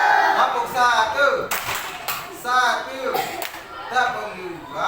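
Children clap along in a school classroom clapping game, a handful of sharp, separate claps landing between chanted voices that run through the whole stretch.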